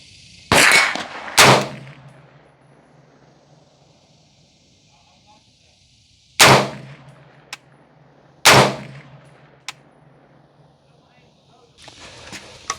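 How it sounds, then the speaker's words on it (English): Four sharp rifle shots from a budget 300 Blackout rifle crack at an outdoor range, spaced irregularly with short echoing tails, with a few faint metallic clinks and wind noise between them. "Before we put more shots down range"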